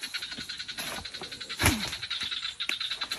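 Continuous pulsing frog croaks outdoors in a pumpkin garden, steady and fairly near, with a brief louder rustle or thump partway through and a few sharp chirps over the croaking.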